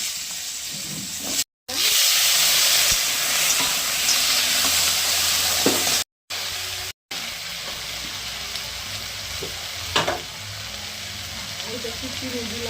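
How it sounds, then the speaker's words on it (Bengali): Lentil dumplings (bori) frying in hot oil in a pan while a vegetable curry of potato, beans and brinjal is made. The sizzle is a loud, steady hiss, cut by a few brief silent gaps and an occasional utensil scrape. "বড়িগুলো ভেজে তুলে নেবো।"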